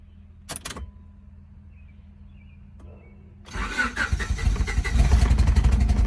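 A high-mileage Honda Accord with a bad misfire starts up after a brief clatter and quiet idle, then runs with a rough, uneven, lumpy engine note close by.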